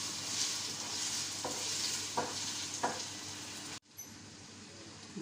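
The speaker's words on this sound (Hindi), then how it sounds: "ये हमने गाजर डाली है, इसको तकरीबन 2 से 4 मिनट को पहले फ्राई करेंगे।" Carrots fry in a hot pan with a steady close sizzle, broken by three soft stirring scrapes before the frying noise cuts off abruptly near the end.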